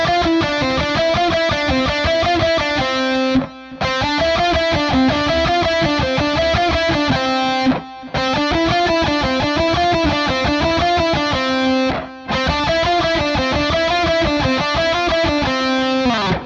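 Fast electric guitar lick, played with two notes per string and alternate picking starting on an upstroke. Rapid, even notes repeat in four loud phrases, each cut off by a brief gap, with no talking.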